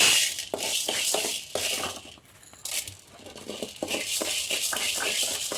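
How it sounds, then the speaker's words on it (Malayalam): Urad dal is poured into a pan for dry roasting. The lentils give a rattling, crunchy patter of grains landing in short bursts, broken by a brief pause midway. "ഇനി നമുക്ക് ഉഴുന്ന് പരിപ്പിടാം"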